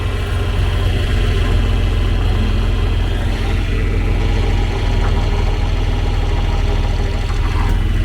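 A vehicle engine runs loud and close in fifth gear on a farm, a steady low drone that holds at an even level for the whole stretch with no clear rise in pitch and no talking.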